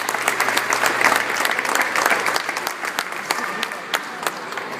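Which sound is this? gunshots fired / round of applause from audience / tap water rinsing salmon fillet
round of applause from audience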